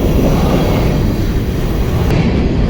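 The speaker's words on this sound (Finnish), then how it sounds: "Tuo on niin pitkä juna" A very long train passes close by on the Tour Divide route, giving a loud, continuous broadband roar and rumble of rail cars that holds steady throughout, with no talking.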